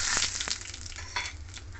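Black cumin, turmeric and Kashmiri chilli powder hit hot oil in a pan for an okra masala, producing a brief dense close sizzle with a couple of soft scraping stirs.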